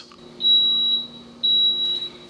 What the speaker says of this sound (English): And once the waffle iron's alarm goes off like this,